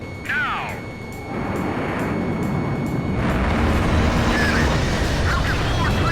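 A burst missile explodes in the Ace Combat 5 jet-combat game, a loud rumbling roar that swells after a brief dip and holds heavy and sustained, mixed with jet engine noise and radio chatter.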